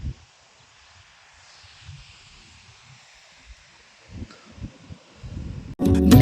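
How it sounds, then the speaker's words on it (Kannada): Strong wind gusting atop the Chunchi Falls viewpoint near Kanakapura, heard as intermittent low rumbling buffets on the microphone over a faint steady hiss, ending in a loud close blast. "ಸಿಕ್ಕಾಪಟ್ಟೆ ಗಾಳಿ ಬೀಸ್ತೈತೆ ಮಾತ್ರ, ನಿಜವಾಗ್ಲೂ ನಿಂತ್ಕೊಳ್ಳೋಕ್ಕೂ ಆಗ್ತಾಯಿಲ್ಲ"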